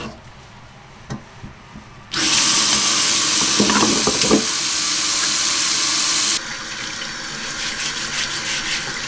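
Large abalone are rinsed under a running tap. The sound starts quiet, then a loud, rushing stream of water with some clatter lasts about four seconds before dropping to a softer trickle.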